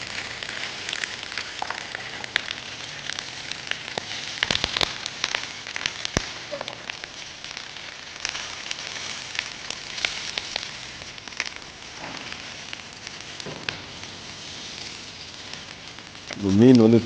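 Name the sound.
stone fish wrapped in banana leaf frying in oil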